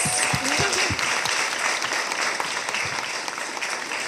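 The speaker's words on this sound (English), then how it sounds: "Can we please give Sabrina a huge round of applause" An audience applauds after an on-stage conversation on ethical business at the Trouble Club. The clapping is dense and sustained, and it fades slightly toward the end.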